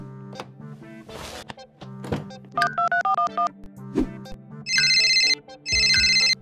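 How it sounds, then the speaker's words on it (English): A phone ringtone sounding in bursts, melodic electronic tones and repeated bright buzzing rings mixed with a few thumps, loud and close with no speech. "Alice, answer the phone"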